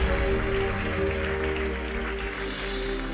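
Loud, steady clapping from a crowd at a 25th wedding anniversary celebration in praise of God, continuous over a sustained musical drone.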